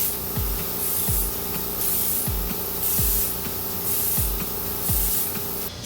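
Airbrush spraying makeup onto a face in a studio, a close steady hiss that swells and eases in regular passes, with soft clicks as the trigger is worked, no talking.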